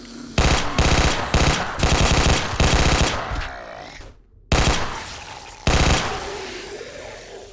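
A TT-33 automatic pistol fires in 7 Days to Die, with rapid loud bursts in quick succession, then a pause and two more separate bursts, each with a trailing echo.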